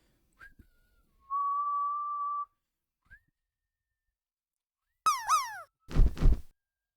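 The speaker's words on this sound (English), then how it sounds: "You probably didn't even hear that because I whistled." A person whistles a single sustained steady note, then after a pause a quick series of sliding whistled chirps, close and clear in an otherwise quiet room during a livestream break.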